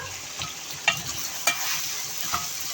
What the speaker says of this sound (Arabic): قلبي بقى كده ايه تقليبه حلوه